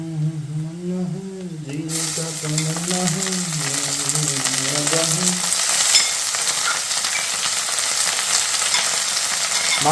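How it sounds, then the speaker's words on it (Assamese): Meat and browned onions fry in hot oil in a home kitchen for chicken, a steady loud sizzle after a voice talks over the start of the frying. "এতিয়া মই ইয়াতে মাংসখিনি দি দিওঁ"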